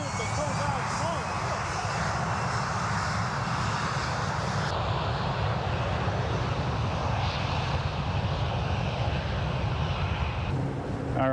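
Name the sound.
airplane landing in crosswind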